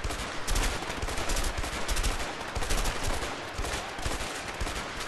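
Rapid, dense video-game gunfire, loud and continuous bursts of shots in near-constant succession, with no talk over them.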